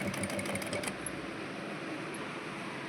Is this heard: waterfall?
no